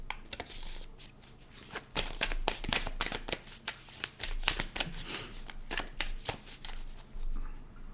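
A deck of divination cards is shuffled by hand, giving a long run of crisp, rapid riffling bursts and soft slaps, close and fairly quiet, with no talking.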